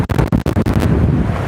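Strong gusty wind buffeting the microphone on a south coast beach with big waves under an overcast sky, loud rumbling bursts that settle into a steady roar.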